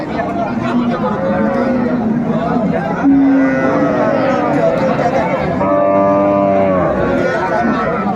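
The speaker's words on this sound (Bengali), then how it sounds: "এটা হচ্ছে গাভী" At a busy Bangladeshi cattle market, a cow lets out a few drawn-out moos, loud and close, under a continuous murmur of crowd chatter and people talking nearby.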